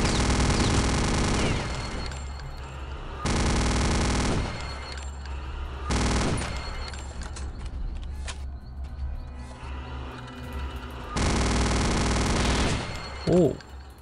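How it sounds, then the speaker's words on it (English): A venom gun and a minigun fire in Return to Castle Wolfenstein in several long, loud, continuous bursts of rapid gunfire, broken up by shorter gaps full of clanks and impacts. "So he's got a goddamn venom gun and a minigun?"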